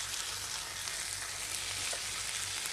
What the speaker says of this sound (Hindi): अभी तक मैंने इसे मीडियम फ्लेम पर तलते हुए रखा है।